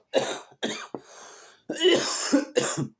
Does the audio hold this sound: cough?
yes